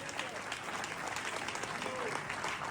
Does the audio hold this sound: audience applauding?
yes